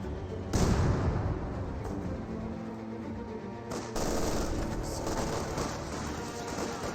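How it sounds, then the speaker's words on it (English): Light machine guns firing continuous suppressive bursts at an infantry squad in the World War II strategy game Company of Heroes 2, a dense rattling barrage with a louder surge near the start and steady chatter throughout, mixed with battlefield noise. "Right now the concept squad is getting suppressed by these LMGs."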